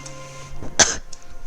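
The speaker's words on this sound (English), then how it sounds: "She coughs a couple more times" A woman in the visual novel Island coughs, one sharp, close burst following a brief rasp, with soft background tones and no talking.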